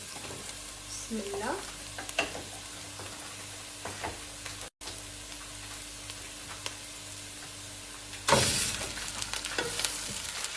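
Chicken pieces frying in a pan over softened fried onions, a steady sizzle with stirring scrapes, a short pause midway, then a louder burst of hissing near the end as the meat hits the hot oil; a brief spoken phrase early on.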